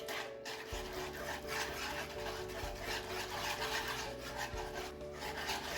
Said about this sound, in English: Then you're going to give it a really good whisk.